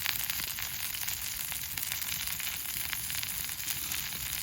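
Food sizzles in a small frying pan on a camping burner outdoors, a steady close hiss with fine crackles throughout, no speech over it.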